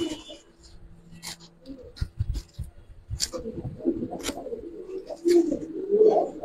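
Silver khaki pigeons coo softly at close range, a few low throaty calls mixed with rustling, handling noises and light breathing sounds, with a person speaking nearby.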